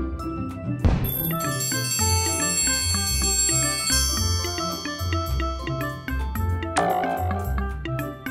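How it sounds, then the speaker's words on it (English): A children's toy bell struck with a toy hammer rings out in bright, sustained metallic tones, with a sharp strike near the start and another later, layered over electronic toy music with a bouncing bass pattern. "Hit the bell."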